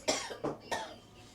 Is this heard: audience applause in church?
no